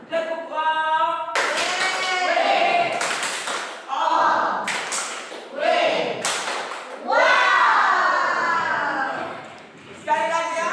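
Children in a classroom perform a rhythmic clapping chant, loud bursts of hand claps and taps alternating with shouted group voices, repeated several times close by.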